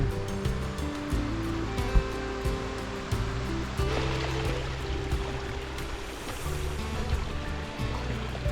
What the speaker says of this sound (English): Nice little spring coming down.